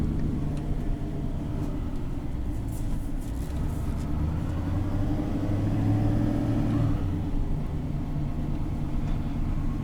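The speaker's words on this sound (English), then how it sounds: "that engine brake is phenomenal for coming down this hill" A 2021 Chevrolet Silverado 6500HD heavy truck coasts downhill on its engine brake, a steady low rumbling drone heard from the cab, moderately loud and continuous without talk.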